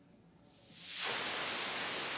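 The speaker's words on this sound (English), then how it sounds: "The blue noise channel, where you go from white" A Dreadbox Eurorack noise module from the Chromatic series, shown at DMF 2019, sweeps its output from white toward blue noise, the hiss growing steadily brighter and louder over about a second, then holding as a steady, close, sharp hiss with no voices.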